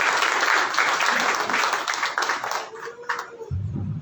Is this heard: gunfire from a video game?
no